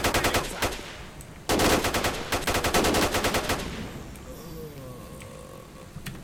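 Automatic gunfire in S.T.A.L.K.E.R. Shadow of Chernobyl, several rapid bursts of shots aimed at a rock, loud and close, separated by short pauses and trailing off into quiet ambience.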